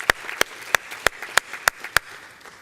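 Sharp, evenly spaced claps ring out about three times a second, a small steady burst of audience applause at a conference opening that fades after a few seconds.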